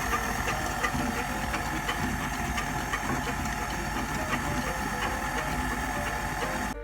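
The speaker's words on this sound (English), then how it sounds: "while the mixer is running initially on low" A stand mixer runs on low, whisking egg whites into royal icing for a gingerbread house, producing a steady mechanical whir with faint rhythmic rattling that continues evenly from start to finish.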